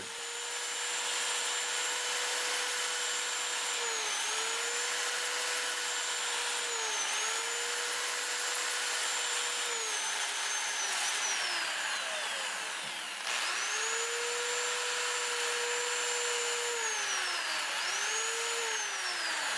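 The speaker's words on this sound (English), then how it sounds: "I'm going to start with 80 grit and we'll get it sanded up" A steady lathe motor whine hums as birch wood spins, its pitch sagging briefly each time 80-grit sandpaper is pressed against the surface.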